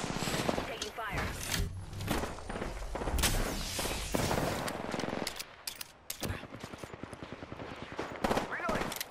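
Dense rapid gunfire from a team firefight in a shooter game, with loud overlapping bursts and single cracks throughout, under clipped voice callouts and occasional footsteps.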